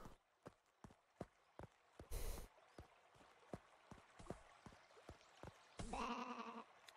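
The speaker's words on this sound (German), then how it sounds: "Ich habe es geschafft, alle Schafe zusammenzutreiben." Sheep bleat in the farming video game Deiland, two drawn-out bleats over a steady, evenly spaced clip-clop of hooves, faint and with no voices.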